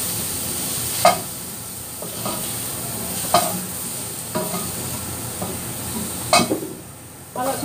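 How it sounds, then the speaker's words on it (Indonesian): Mushrooms stir-fried in a pan for a Hong Kong-style dish give a soft steady sizzle, with three or four sharp scraping clinks of a utensil against the pan spaced a couple of seconds apart. "Kalau jamur bisa ditumis atau enggak juga nggak apa-apa sih sebenarnya, cuma saya sekalian aja saya tumis"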